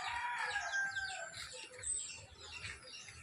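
A rooster crows outdoors in a rural yard, its drawn-out, wavering calls fairly clear over a quiet background.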